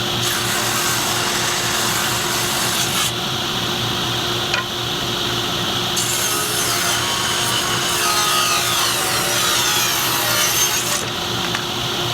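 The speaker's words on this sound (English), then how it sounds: "so I'll rip that down, cut it up." A power saw rips and crosscuts a 3/4-inch-thick birch board, a loud, steady whine of blade through wood running the whole time with slight shifts in pitch as the cut progresses, no voices.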